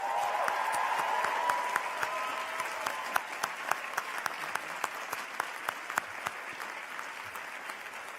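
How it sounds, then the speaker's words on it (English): Applause from the crowd at a graduation ceremony, dense at first and then thinning into sparser, distinct claps, moderately distant, with a faint voice early on. "they deserve a huge,"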